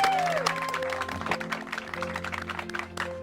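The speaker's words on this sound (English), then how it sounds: "Right, round of applause." Live audience at a Mystic Journey event with channeler Darryl Anka applauding, a steady dense wash of clapping that stays loud throughout over a sustained musical tone.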